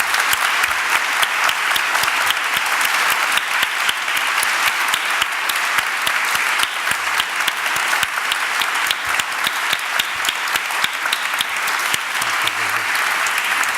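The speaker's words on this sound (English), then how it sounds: "please join me in an enormous round of applause for our two speakers" Loud, sustained audience applause for two speakers at a public conversation event with the Archbishop of Canterbury, dense, even clapping filling the full stretch without a break.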